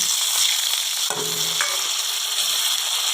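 Urad dal, chana dal and garlic hitting hot oil in a pan, giving a steady loud sizzle with a brief sharper spatter midway; no talking.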